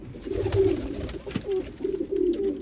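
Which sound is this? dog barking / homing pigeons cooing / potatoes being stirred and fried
homing pigeons cooing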